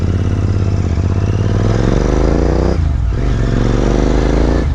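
Royal Enfield Interceptor 650 motorcycle ridden after its 15,000 km service, a steady loud engine drone with shifting pitch, easing off briefly near the end before pulling again.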